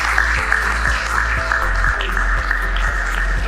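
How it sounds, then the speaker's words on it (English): Audience applause at an annual health week scientific conference at a university, a dense steady patter of many hands that fills the whole stretch at an even, moderately loud level. "Can we give her a round of applause?"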